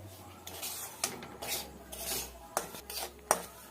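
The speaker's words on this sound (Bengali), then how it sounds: "সুজিটা আমি ঘিয়ের মধ্যে দিয়ে দেব, গরম করা ঘিয়ের মধ্যে। এবারে এইটাকে ভালোভাবে 1 মিনিট ধরে ভেজে নিতে হবে।" Semolina being fried in hot ghee over a low flame, with a spoon scraping and clinking against the pan in repeated short strokes, close and fairly quiet, with no talk.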